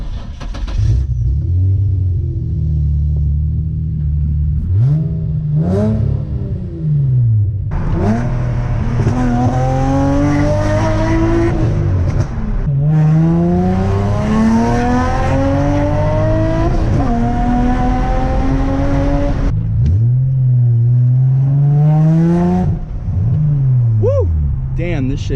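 An Infiniti G35 or Nissan 350Z on a test drive, its engine rumbling loud and close as it revs and accelerates repeatedly, pitch climbing through gears, with brief talk between pulls.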